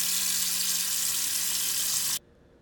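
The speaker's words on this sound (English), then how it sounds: "Now I'm just draining the water and removing all those excess like fat chunks in the water" Water from rinsed meat drains in a steady hissing, splashing pour, running continuously for about two seconds before it stops abruptly.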